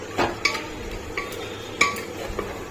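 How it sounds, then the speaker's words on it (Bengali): Chicken is stirred in a cooking pot, with a few scattered scrapes and metallic clinks of a utensil against the pot at an uneven pace. The clinks are close and moderately quiet, with no talking. "এবার দিয়ে দিচ্ছি চিকেন এবার এটাকে আমি কিছুক্ষণ ধরে নাড়বো"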